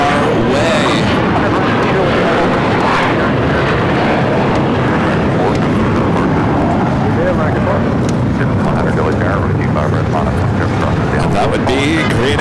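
A Boeing 747 jet taxis toward the gates at LAX with a loud, steady, close engine roar throughout, and a voice talks over it.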